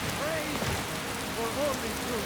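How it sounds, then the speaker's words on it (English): Steady rain falls outside with an even, hissing patter, continuous and fairly soft, with faint voice-like tones briefly over it. "We've got rain."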